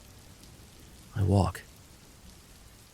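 Steady rain falls as a soft, even hiss that runs through the whole stretch. One person speaks briefly in the middle over it.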